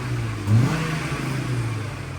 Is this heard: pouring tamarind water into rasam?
no